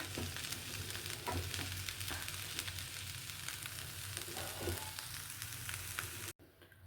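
Village-style sprouted horse gram bassaru simmers on a stove with a steady, close bubbling hiss and no talk. The sound stops abruptly just before the end.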